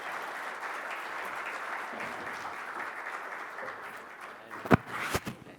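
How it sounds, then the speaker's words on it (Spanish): A conference audience at a security summit applauds a panel on organized crime, steady clapping filling the room, thinning toward the end, with a few sharp nearby claps and footsteps. "Un aplauso para ellos."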